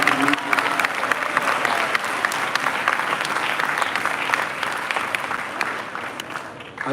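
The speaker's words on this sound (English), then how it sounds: "Please give a round of applause." Steady, loud applause from a large crowd at a devotional gathering, dense clapping holding for several seconds before it begins to thin out toward the end.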